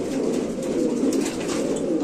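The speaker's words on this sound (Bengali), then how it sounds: "সুস্থ সবল কবুতর দেখা যায়" Pigeons cooing close by, a steady overlapping stream of soft throaty coos from several birds, loud and continuous without talk.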